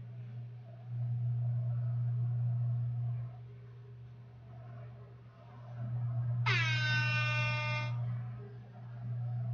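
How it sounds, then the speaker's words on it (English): A single loud air horn blast sounds alone for about a second and a half, standing out over a steady low hum and rumble that runs through the whole clip. "Air horn."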